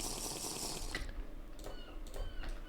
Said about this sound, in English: I'm going to drink this water bottle